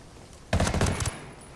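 A burst of MK rifle fire in the video game Ghost Recon Wildlands: a quick rapid-fire volley of loud, sharp shots lasting about half a second, followed by a fading echo and no talk.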